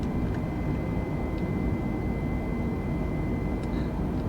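Loud, steady jet engine roar from outside an Airbus airliner in Microsoft Flight Simulator, a dense unbroken rumble with a faint high whine running through it and a few tiny clicks.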